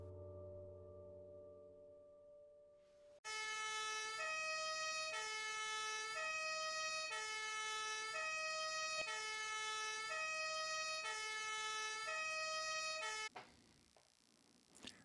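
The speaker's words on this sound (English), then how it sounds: "Yes, the sirens are sounding." A siren wails in a steady two-tone pattern, loud and repeating for about ten seconds before cutting off.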